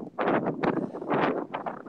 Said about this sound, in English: It's getting a little bit more windy through here.